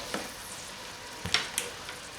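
Turnip dropped into a hot frying pan gives a quiet, steady sizzle with a few soft clinks and stirring scrapes, a light kitchen sound heard alone without talk.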